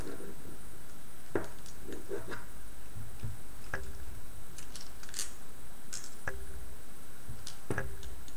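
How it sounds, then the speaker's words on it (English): Small mechanical clicks and ticks as a screw is driven into a DFRobot Arduino mobile robot platform, scattered irregular taps close by with soft handling noise, no talking. "I'm going to screw this in here"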